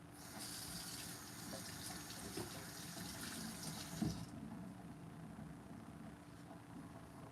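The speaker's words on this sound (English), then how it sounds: "I'll take a couple of carrots. I'll rinse them out too." Tap water running steadily while carrots are rinsed under it, a soft gushing stream that stops partway through, leaving a quiet room, faint and close with no talking.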